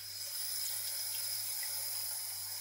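Water poured while making tea at home, a steady faint hissing stream with no talking over a constant low hum.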